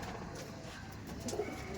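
Tournament-quality Madrasi pigeons coo softly in a loft, a low murmuring call that swells toward the end over steady background noise, with no talking.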